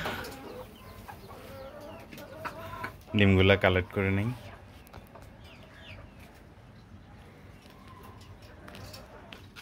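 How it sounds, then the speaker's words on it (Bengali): Hens in a farm hen house cluck softly and intermittently in the background while a person speaks over them during egg collecting. "এখানে কিছু মুরগি ওমে ছিল"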